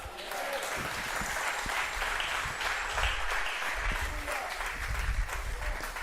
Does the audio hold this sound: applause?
yes